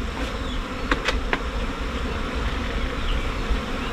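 A continuous hum of honey bees around an opened hive box in an apiary, close and steady with a few short louder flickers, no voices.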